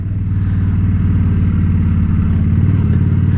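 A motorcycle engine runs steadily nearby with the clutch pulled in while the bike slows, a loud, continuous low throbbing putter with no talk.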